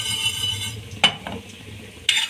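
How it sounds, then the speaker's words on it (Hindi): Whole spices dry roasting in a frying pan for Lahori cholay, a faint steady background hiss broken by two sharp scraping clinks of a utensil against the pan about a second apart. "अब हमने फ्राई पैन के अंदर सारी चीज़ें रख ली हैं और इन्हें ड्राई रोस्ट करना है।"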